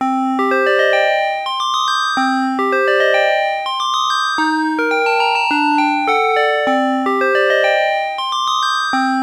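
Bright, bell-like celesta tones from a Casio MT-30 keyboard play a repeating rising arpeggio pattern, each note ringing with a moderate sustain, steady and close without any voices.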